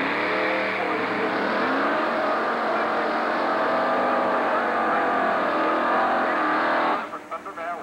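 A Mustang drag race car roars at the Texas Motorplex during a 1990 Division 4 finals event. Its engine climbs in a loud, sustained rising howl for about seven seconds, then drops away abruptly into fading, choppy rumble.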